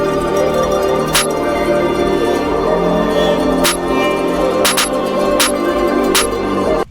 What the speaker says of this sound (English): So the first thing I started with was this clap.